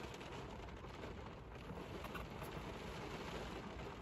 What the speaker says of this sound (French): Il pleut des cordes, si vous entendez.